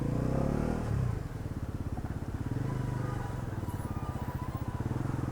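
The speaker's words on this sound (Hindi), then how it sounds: "you feel that you are riding a good torquey motorcycle" Bajaj Pulsar NS400Z motorcycle engine pulling steadily while being ridden, a close, continuous throbbing drone that dips briefly after a loud first second, then holds and swells slightly.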